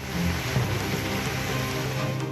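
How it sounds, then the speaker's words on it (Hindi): Heavy first monsoon rain pours down in Jammu and Kashmir, a constant broadband hiss of falling water with no pauses, fairly loud and even. "मानसून की पहली बारिश जम्मू कश्मीर में भी आफत बनकर बरसी।"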